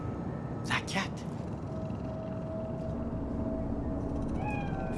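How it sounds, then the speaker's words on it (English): A cat meows twice in quick succession in the video game Cyberpunk 2077, set in Night City. The meows are close and clear over a steady ambient city hum, with a thin tonal whine following. "Do you see it? That cat?"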